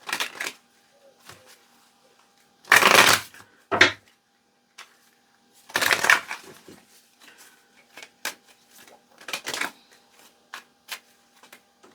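A deck of cards being shuffled by hand during a tarot-style crystal reading, with two loud riffling bursts and scattered softer taps and clicks in between, and no one talking.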